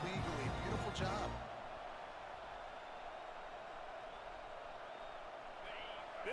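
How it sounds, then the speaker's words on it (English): A stadium crowd roars in the College Football 26 video game. A louder burst comes first, then a constant, distant wash of noise. Game commentary talks over it. "This crowd bringing the energy and noise early."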